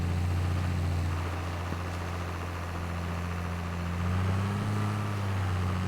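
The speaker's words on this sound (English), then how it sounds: "It's having a rough time handling this, even though it said in there that a 190 horse tractor should pull it." A 190-horsepower tractor engine in Farming Simulator 22 strains steadily under a heavy load, a continuous low drone that rises in pitch and loudness partway through, with no talk over it.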